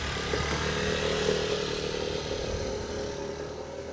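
A small scooter engine buzzes steadily at low volume and slowly fades as it rides off.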